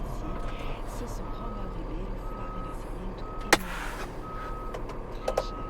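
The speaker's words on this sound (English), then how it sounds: "That's an international 10-wheel truck, and this truck is used for egg delivery." An International 10-wheel egg delivery truck is backing up, its reversing beeper repeating over a low engine rumble while voices talk nearby.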